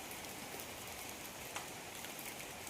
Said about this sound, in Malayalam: അപ്പോഴത്തേക്കായിരുന്നു ഈ മഴ